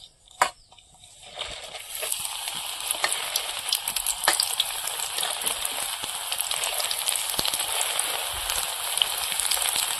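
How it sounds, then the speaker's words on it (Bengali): Cabbage 65 pieces deep frying in hot oil, a loud, dense, steady sizzle that bursts in after a brief quiet start with a sharp clink and continues unbroken, with crackling pops throughout. "তেলটা গরম হয়ে গেছে, এবার 65 গুলো ভেজে নেব"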